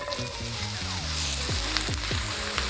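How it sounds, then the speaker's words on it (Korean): Onions sizzling in melted butter in a pan for homemade curry, a steady loud crackle with stirring scrapes and clinks of the utensil repeating every half second, no voices. "이제 버터가 다 녹으면 여기에다가 양파를 넣어서 볶아줍니다"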